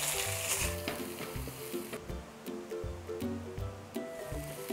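Chopped onion hits melted butter in a hot pan and sizzles loudly and steadily, with background music playing underneath the frying.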